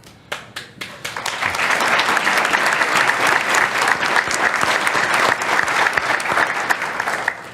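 An audience at a press club bursts into sustained applause: a few opening claps swell into dense, loud clapping that holds steady for several seconds before easing slightly.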